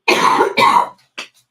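A person coughs twice in quick, harsh, close bursts, followed by a short, softer throat sound, with no talk around it.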